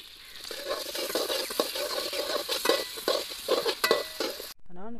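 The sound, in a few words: onions frying in a pan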